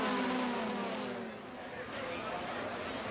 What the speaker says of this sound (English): Morgan and Cook enjoyed the straight-line advantage and ran 3 abreast into the braking zone